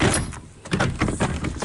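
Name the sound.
shonky door opening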